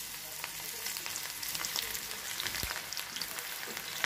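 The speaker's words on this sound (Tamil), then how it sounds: "இப்போ நம்ம பக்கோடா போட ஆரம்பிச்சிடலாம்." Banana flower pakoda fritters sizzle and crackle in hot oil, a quiet, steady frying hiss dotted with small pops and the odd stir.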